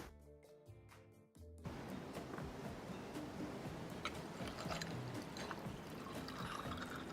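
Drinks being poured in the video game Hooked on You, a Dead by Daylight dating sim: a steady splashing, trickling liquid pour rises after a short musical intro and continues to the end.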